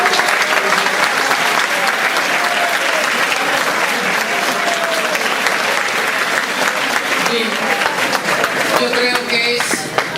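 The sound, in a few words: audience applause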